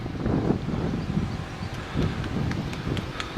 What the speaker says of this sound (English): The wind is still quite blustery.